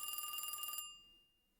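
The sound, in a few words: telephone ringing at a gas station in a video game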